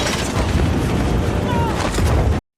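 A locker blows up beneath a helicopter in an action film, a loud, dense roar of blast and rumble filling the whole moment before cutting off abruptly.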